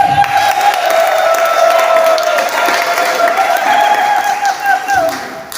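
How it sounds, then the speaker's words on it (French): A church congregation applauds and cheers, producing a sustained wash of loud clapping with a crowd of voices and a sung or shouted tone running through it, steady for several seconds before tapering off. "Je pensais que tu allais donner des acclamations."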